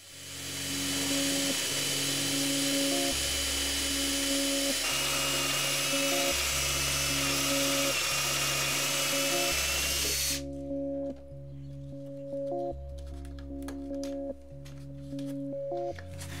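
A Forstner bit bores into wood for a leash plug on a solid wooden Alaia surfboard, giving a steady high whine with pulsing pitch shifts over a continuous hum, close and fairly loud throughout.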